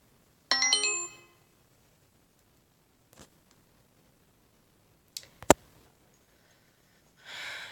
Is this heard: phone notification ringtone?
yes